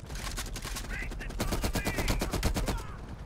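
Rapid, evenly spaced automatic fire from an LMG in Call of Duty: Black Ops Cold War, a dense close burst that runs steadily for about three seconds.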